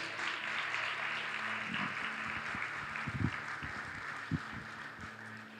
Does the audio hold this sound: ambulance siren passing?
no